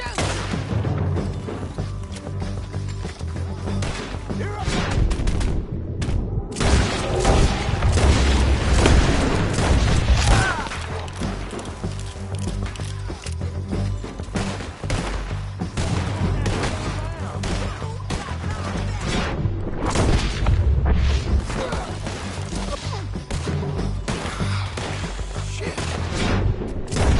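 Dense gunfire and explosions from Red Dead Redemption 2 run for nearly half a minute, with booming shots and heavy thuds crowding one another.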